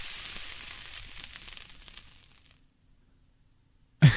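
A heating element sizzling with a crackly, hissing fry that fades out over a couple of seconds, followed by silence and then a brief soft thump.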